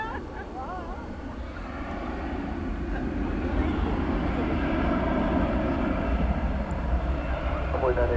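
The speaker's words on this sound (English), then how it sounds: "we're about to see the flight arriving from Santa Ana" A Boeing 737 MAX 8 airliner arriving at DFW Airport at night, its steady engine roar building gradually and holding loud and broad throughout, with faint radio chatter in the background.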